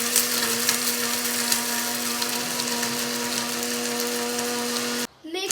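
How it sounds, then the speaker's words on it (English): An electric spice blender grinds thandai spices to powder, a steady close whirring drone with a rattling edge that runs for about five seconds and then cuts off abruptly. "So I'm going to put my lid on of the spice blender, put the switch, and start."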